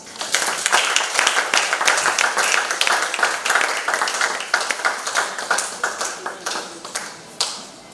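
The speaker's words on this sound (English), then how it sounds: "Clapping, please." Audience at an artificial intelligence conference clapping for a speaker, a close, lively patter of many hands that gradually thins to scattered claps with one late burst.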